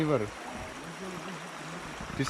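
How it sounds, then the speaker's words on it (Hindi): Steady broadband rush of the Tesa river in Arunachal Pradesh, a continuous flowing-water wash heard throughout at close range, with a voice briefly over it at the start. "अभी हम लोग नदी आया है तेसा नदी में।"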